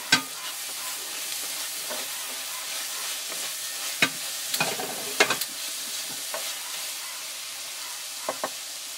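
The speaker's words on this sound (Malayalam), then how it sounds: "സവാള കൂടി ആഡ് ചെയ്ത് നല്ലതുപോലെ ഒന്ന് വഴറ്റിയെടുക്കാം" Onion and tomato sauté for a village-style liver roast, a soft, even sizzle punctuated by several distinct spoon knocks and stirring scrapes against the pan.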